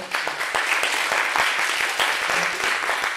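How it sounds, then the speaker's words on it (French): An audience breaks into sustained, dense applause, loud and steady throughout with scattered sharp claps. "je pense qu'on peut l'applaudir sur tout ça"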